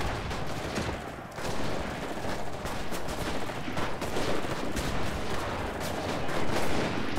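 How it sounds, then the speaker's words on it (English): A grenade goes off amid a dense, continuous firefight in the World War II shooter Enlisted, with loud gunfire and blasts crackling through the whole stretch, no speech. "That's a grenade."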